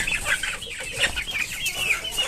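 A native hill rooster clucks in short, repeated bursts, close and fairly clear against faint farmyard background noise, with no talking.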